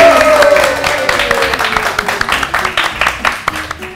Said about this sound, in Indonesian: Tepuk tangan dulu dong untuk Bu Penny.